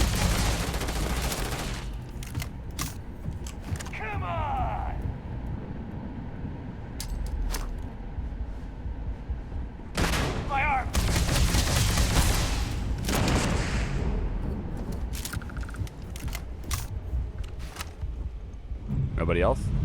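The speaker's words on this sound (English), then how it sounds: "there's clearly some explosions going on in your base" Gunfire and explosions crash at an outpost base in Starfield. Bursts and sharp cracks arrive in uneven clusters, with heavier booms partway through, over a steady rumble while people talk throughout.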